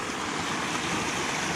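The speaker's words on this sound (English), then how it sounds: "I think there's a little trickle here sometimes, but it's a waterfall." A small waterfall rushes in a broad, steady wash of water noise, continuous and moderately loud, with no voices.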